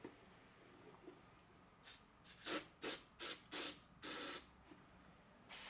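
Spray squirted into the engine of a 1969 AMC Javelin 290 V8 before a cold start, a series of short sharp hisses, close and loud, with one longer burst near the end against near silence.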